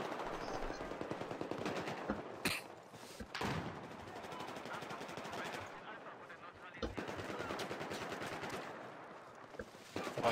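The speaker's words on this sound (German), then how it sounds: "Bei C hockt einer auf dem Dach und snipert runter." Gunfire in a Battlefield 4 battle, with a sniper firing from a rooftop: continuous rattling fire and scattered sharp cracks over about ten seconds, alongside game noise and voices.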